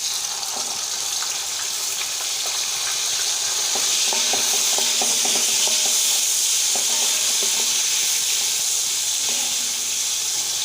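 Tomatoes fry with browned onions in a pan, a continuous bright sizzle with scattered pops and light scraping, steady and close with no voices.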